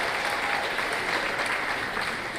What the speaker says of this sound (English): round of applause for everything that you endured